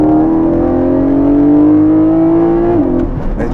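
A Porsche 718 GTS engine pulls hard under acceleration, a loud, close, steadily rising drone that climbs for about three seconds before a gear change drops the pitch.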